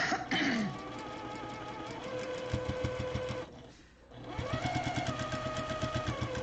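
A sewing machine stitches a quilt-as-you-go block in steady rapid bursts, with a short pause in the middle before the needle runs resume at an even pace, close and clear.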